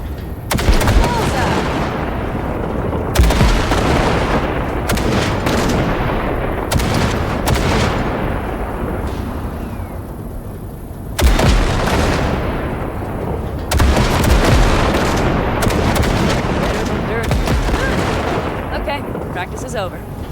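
Heavy gunfire blasts at wrecks from a Basilisk hovertank in Cyberpunk 2077, loud booming bursts repeating in clusters across the scene, with voices talking between the volleys.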